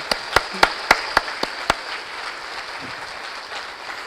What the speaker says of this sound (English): Let's give them a round of applause for their commitment and dedication to CHELCO.